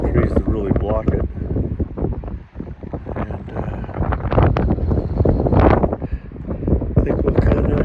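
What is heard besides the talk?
wind blowing on exposed hilltop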